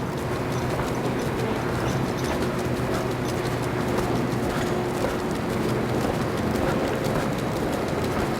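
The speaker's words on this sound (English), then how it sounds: "It's always a weird feeling when you can hear people's footsteps behind you." Footsteps of people walking on a city street in San Francisco's Chinatown before dawn, a steady rhythmic tapping under constant broadband city hum.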